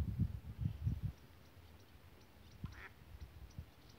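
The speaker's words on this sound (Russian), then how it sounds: "Это, наверное, та уточка, которую в прошлый раз кормил." A few soft duck quacks come in a quick cluster beside a boat, then scattered quieter calls over faint water and background noise.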